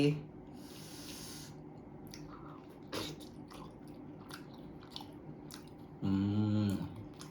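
Close, moist chewing of ragi kali balls dipped in mutton curry, with soft mouth sounds and breaths repeating across the clip and a louder burst near the end.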